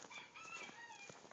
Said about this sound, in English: And did you hear that? Chickens?